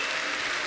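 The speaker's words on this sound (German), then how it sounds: "Das ist ein Applaus wert." A comedy stage audience at a German year-in-review show breaks into steady, dense applause, a continuous wash of clapping with no voices over it.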